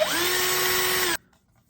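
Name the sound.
step drill cutting through plastic Otterbox case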